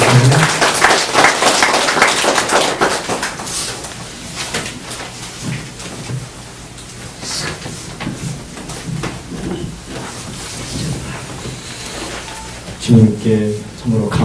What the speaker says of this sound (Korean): 박수로 맞이합시다.